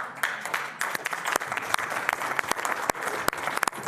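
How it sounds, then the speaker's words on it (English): An audience of people at a county commissioners' annual retreat bursts into brisk, steady clapping, a dense close round of applause lasting several seconds. "They clapped"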